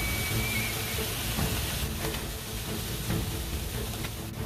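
Soy sauce hits a hot pan used for steak and sizzles with a steady, close, loud hiss and crackle throughout, with faint scraping in the background.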